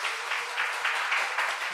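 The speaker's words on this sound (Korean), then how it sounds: "박수 한번." A church congregation claps for a missionary visiting from Indonesia during a Sunday worship service, a steady, continuous round of applause with a dense, even texture and no voices over it.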